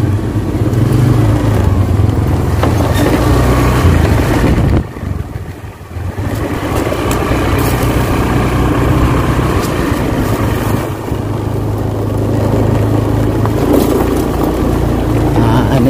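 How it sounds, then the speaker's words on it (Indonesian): A motorbike engine runs loud and close on a village road in Kampung Bojari, a steady droning rumble with wind noise and one brief dip in level partway through. "Kita pakai motor ini."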